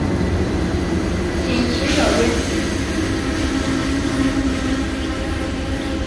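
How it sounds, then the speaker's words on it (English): A locomotive-hauled Chinese commuter train, the K207 from Weifang to Qingdao, rolls into a station with a loud, steady rumble and a rising whoosh, its wheels droning continuously nearby. "Videoing the train coming in."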